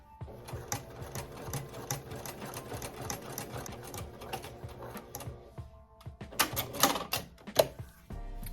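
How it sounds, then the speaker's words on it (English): A sewing machine stitches around the edge of a kufi made from African print fabric, running in quick rhythmic bursts with brief pauses and a few louder clacks toward the end. "I'm gonna go around the edge where I had that opening and sew that closed."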